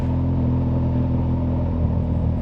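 A motorcycle engine droning steadily while being ridden, a loud, continuous low rumble with even harmonic hum and wind noise, heard close and alone without talk.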